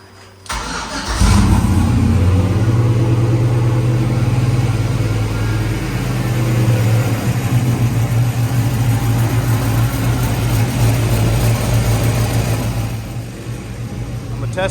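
Car engine running on a test drive after turbo repair work, a steady, loud mid-pitched drone that holds for the whole stretch after an abrupt start, with a voice faintly present underneath.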